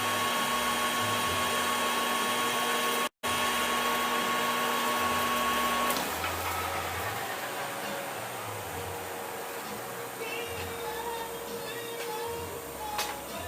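A lathe bores a cast iron handwheel, with a steady motor hum and high cutting whine, a brief dropout, then a rougher grinding hiss as the cut continues, close and fairly loud throughout.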